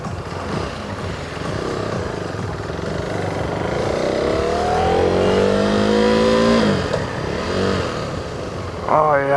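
During a test ride, a KTM Duke 390 motorcycle engine idles and then revs up, its pitch climbing steadily as it accelerates before dropping back. The sound is close and fairly loud.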